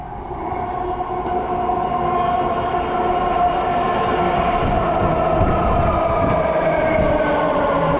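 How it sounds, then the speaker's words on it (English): A subway train rumbles steadily and loudly throughout, a continuous low roar with a sustained metallic hum and faint wheel noise as it rolls into the station close by. "Here comes the train"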